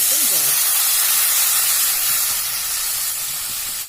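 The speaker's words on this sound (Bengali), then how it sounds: "এবার দিয়ে দেবো পরিমাণ মতন জল।" Water poured into hot frying spices for a rohu fish curry sizzles in a loud, broadband hiss that holds steady and then cuts off abruptly; a voice is heard briefly at the start.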